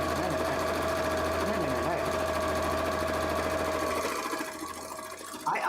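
A sewing machine stitches fabric in a steady, continuous mechanical hum with rapid needle rhythm, close and loud for most of the stretch before easing off near the end, with no talk over it.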